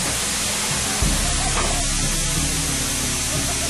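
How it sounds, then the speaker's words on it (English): A homemade polyethylene hybrid rocket motor fires with a loud, continuous roaring hiss that holds steady throughout, with a brief low thump about a second in. "Note the smoke vortexing around the nozzle as the rocket fires."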